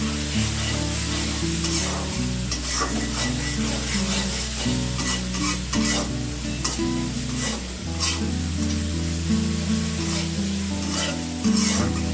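Fish simmers and sizzles in a pan in a home kitchen, a continuous frying hiss under steady low background hum, with occasional stirring scrapes and clinks throughout, no voices heard.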